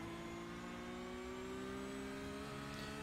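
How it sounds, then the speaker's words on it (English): A race car on the Nürburgring in iRacing holds full throttle, its engine a steady, loud, high-pitched drone with a slowly rising pitch and no breaks. "This is full throttle."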